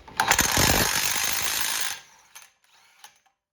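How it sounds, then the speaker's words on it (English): Loud rapid ratcheting burst from an impact or ratchet tool on a 35mm socket, spinning off the front axle nut of a Lexus GX470/GX460 hub, running about two seconds before stopping, followed by a couple of faint metallic clicks. "Remove the nut with a 35mm socket."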